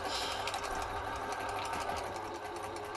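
A sewing machine runs continuously and close up as it back stitches through fabric, its fast rhythmic mechanical whirr and needle clatter steady throughout.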